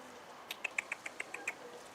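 Young escaped pigeon gives a quick run of about eight short, soft squeaky peeps in an even rhythm, faint and close by, with no talking over them.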